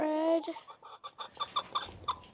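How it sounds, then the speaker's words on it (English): Chickens cluck in a series of short, repeated calls at close range while they eat lettuce, with a brief voice heard at the start. "How you doing, chickens?"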